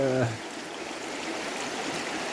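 A river stream rushes steadily as a broad, even wash of flowing water close by, following a brief voiced tone at the very start.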